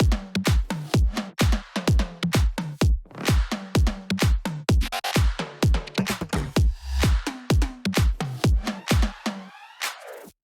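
Electronic drums with little effects and layered reverb-soaked claps pound out a steady, punchy rhythm of loud repeated hits for several bars, ending abruptly.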